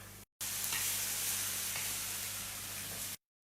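Buckwheat galette batter sizzling in a hot pan, a steady broad hiss that starts abruptly, holds even and loud for about three seconds, then cuts off.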